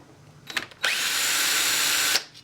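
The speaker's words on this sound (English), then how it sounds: "T27 bit, lock that into our driver, and we're going to take out those bolts." A power driver fitted with a T27 bit whirs steadily for over a second as it backs out a bolt from an AR-15 MLOK handguard, preceded by a few short bursts, loud and close with no talk.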